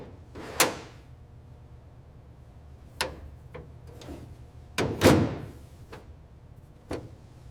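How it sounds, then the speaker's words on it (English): A car door is rehung on a 1936 Mercedes-Benz 500K roadster, giving scattered sharp metallic knocks and clunks, one louder thump in the middle, against a quiet background. "Rehanging the door on a car this rare requires patience."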